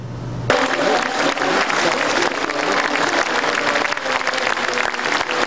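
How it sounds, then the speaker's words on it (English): Applause from the audience opening the 2012 Overseas Volunteer Training Workshop at a Tzu Chi gathering: a dense, sustained wash of clapping that starts suddenly and stays loud throughout. "After a round of applause, the 2012 Overseas Volunteer Training Workshop officially begins."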